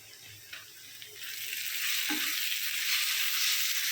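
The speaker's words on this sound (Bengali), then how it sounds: "এখন মশলার সাথে শুকনো মশলাগুলো পেঁয়াজের সাথে একটু নেড়ে চেড়ে নেব" Onion with dry spices (chili powder, turmeric and coriander powder) is stir-fried in a pan for a koi fish curry, a close, hissing sizzle that swells and grows louder and steadier as stirring goes on.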